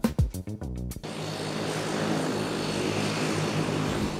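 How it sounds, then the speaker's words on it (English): A propeller airplane drones steadily in flight after a few sharp, loud transient bursts at the start, settling into a constant broad engine and wind roar heard from inside, with no talking. "Now boarding the flight to Glencoe."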